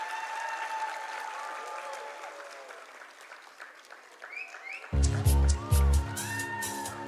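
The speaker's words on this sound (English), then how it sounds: "A big round of applause, dear parents." Parents in the audience at a school's annual showcase applaud steadily, a dense wash of clapping that carries on as loud music with heavy bass beats starts in partway through.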